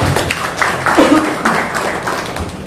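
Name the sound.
audience applause for Pak Seno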